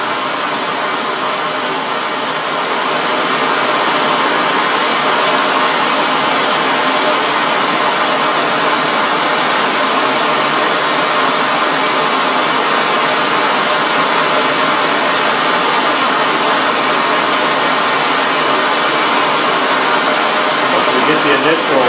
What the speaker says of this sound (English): start traveling with our torch trying to make it keep the rest